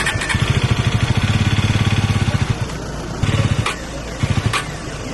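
Motorcycle engine during riding practice putters close by in a steady rapid thumping, briefly dropping off, then revving again in short bursts.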